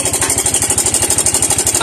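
A Yamaha Mio Soul i 125 fuel-injected scooter engine idles close by with a worn timing chain, giving a steady, rapid ticking rattle over a low rhythmic engine pulse, alone and loud.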